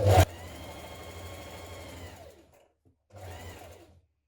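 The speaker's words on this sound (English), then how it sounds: "Now twin needle around your hem." A sewing machine runs a twin needle around a garment hem, a steady close whir that stops, pauses in silence, then starts again for a second short burst.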